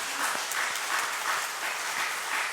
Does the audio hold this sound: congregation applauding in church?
yes